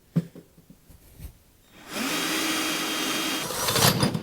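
An old Craftsman power tool starts up about two seconds in and runs with a steady, loud whine until the end, with a few louder bursts near the close. Only scattered knocks and handling sounds come before it.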